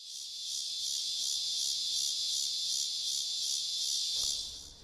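Cicadas sing in summer treetops, a steady, loud high-pitched buzzing drone with a faint pulsing rhythm that holds for several seconds before easing off at the end.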